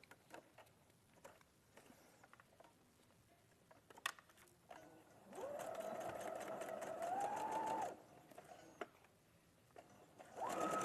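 A home sewing machine runs in two bursts of steady, whirring stitching, the second rising slightly in speed, then starts again briefly at the end, with quiet handling noises between runs.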